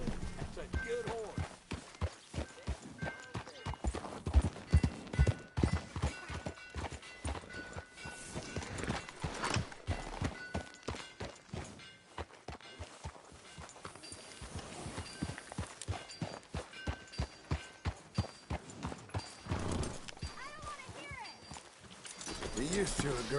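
A horse's hooves clip-clop in a steady walking rhythm through a Red Dead Redemption 2 game scene, with occasional snorts, while people talk over the hoofbeats.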